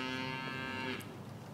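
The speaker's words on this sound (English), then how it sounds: "A couple cows." Cattle low on a farm, one long drawn-out moo lasting about a second and fading into quiet outdoor background, fairly close and clear with no talking.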